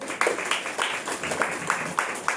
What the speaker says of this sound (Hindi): सिर्फ पास्टर स्टेलिन के लिए ताली बजाओ